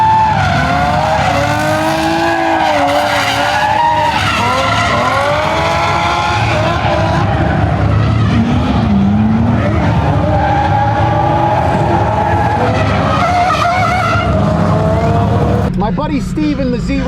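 A drift car at the Freedom Factory drift event revs hard through a corner, its engine note rising and falling over loud, continuous tire skidding, with a voice coming through at times.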